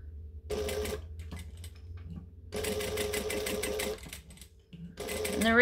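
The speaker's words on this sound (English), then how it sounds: "Now I want to stitch all of the ends." A sewing machine stitches the ends of a fabric case in three bursts of rapid, close mechanical chatter separated by short pauses, the last burst starting just before the end, no voices.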